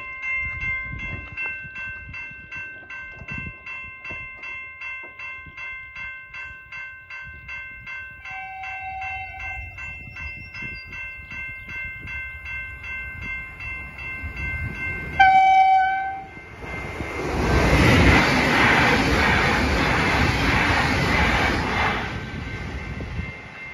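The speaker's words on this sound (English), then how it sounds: "I do in fact hear a train coming" Crossing bells ring steadily, then a train horn blasts and a loud train rumbles past close by, its roar filling the last several seconds.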